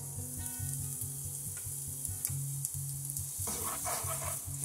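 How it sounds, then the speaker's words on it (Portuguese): Chopped onion and garlic fry in hot olive oil in a pan, giving a steady, fairly quiet sizzle under a low, pulsing background hum, with no talking. "Eu vou esperar dar uma fritada aqui nessa cebola com o alho."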